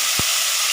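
Tomatoes fry in oil with green chillies, curry leaves and asafoetida, giving a steady, close hiss with one short low thump.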